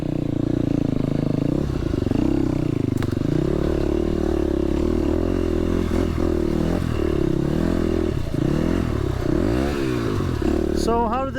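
A KTM dirt motorcycle ridden along soaked single-track trail in Luzern, Michigan, its engine droning steadily with repeated throttle rises and dips and some clatter throughout.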